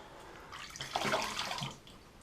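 Hot water runs from a tap in a brief splashing gush that swells and then fades, close and with no talking.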